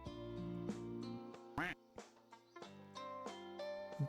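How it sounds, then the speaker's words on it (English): Duck quack sound alert playing over a livestream, a series of short nasal quacks repeating in quick bursts at moderate loudness, with a brief louder blip midway. "It says quack. It goes quack."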